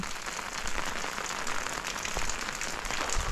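Steady morning rain falling, a dense, even hiss of drops on surfaces that holds at a constant level throughout with no voices.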